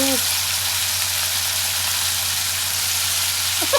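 Cumin, green chilli and onion fry in hot oil in a pan, a steady close hiss of sizzling that holds evenly, with a brief voice at the start and end.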